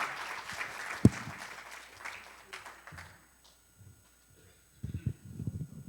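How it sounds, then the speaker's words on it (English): Audience applause at the Karson Institute 5th anniversary symposium, moderate and fairly brief with one sharp clap standing out, dying away after about three seconds before a voice starts speaking. "Give yourselves a round of applause."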